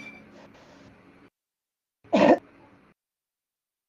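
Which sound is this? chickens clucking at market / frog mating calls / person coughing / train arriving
person coughing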